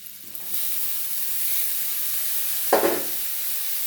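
Red amaranth leaves go into a pan of frying shrimp: a soft continuous sizzle, then a sudden louder hissing burst as the greens hit the hot oil, fading back to a gentle fry.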